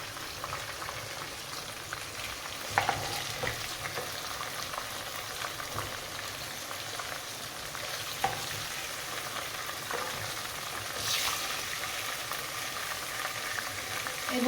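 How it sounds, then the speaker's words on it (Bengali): Pieces of Kolkata-style chicken chaap fry in hot oil, giving a steady, dense sizzle that carries on throughout, with faint stirring and scraping now and then and no voices. "আর এদিকটা এমনি এমনি লাল করে ফ্রাই করে নেব আমরা"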